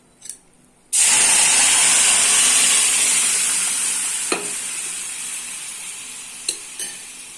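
Boiled ridge gourd with slit green chillies is poured into a hot pan, bursting into a loud, sudden hiss that slowly fades over several seconds, with a couple of light utensil knocks and no talk.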